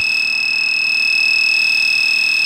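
A Genesis fire alarm sounds inside a Roblox video game: a loud, continuous electronic tone with a fast steady pulse that holds evenly throughout, with no voices.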